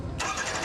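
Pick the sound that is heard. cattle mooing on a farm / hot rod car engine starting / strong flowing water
hot rod car engine starting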